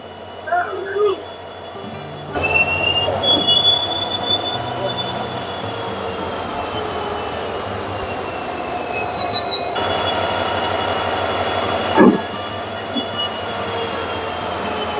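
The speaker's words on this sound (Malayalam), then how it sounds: "എൻജിൻ വേറെ ട്രാക്കിലേക്ക് കയറി ട്രെയിനിൻ്റെ ഇപ്പുറത്തെ ഭാഗത്ത് വന്ന് ഘടിപ്പിക്കും. അതാണ് ഇപ്പോൾ നമ്മൾ കാണുന്നത്." A diesel locomotive rumbles nearby at Nilambur railway station, with long, high metal-on-rail squeals drawn out over several seconds as it shunts, followed by a sharp clank as it couples to the train.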